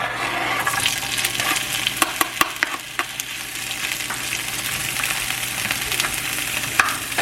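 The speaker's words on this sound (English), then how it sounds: "I'm gonna go ahead and get started on frying up this ground turkey" Steady, loud sizzling of ground turkey frying in a pan, with a few sharp crackles and pops scattered throughout.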